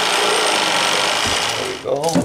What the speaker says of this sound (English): We're gonna do this the modern way with a sawzall.